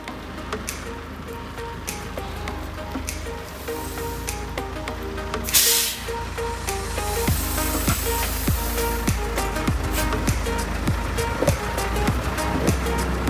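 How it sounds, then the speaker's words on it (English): A Komatsu forklift drives along, its steady low engine rumble running throughout with scattered clicks and knocks and a brief hissy burst partway through, the drone growing slightly louder toward the end. "It's just a forklift, but you know what? It's a JDM forklift. Kumatsu."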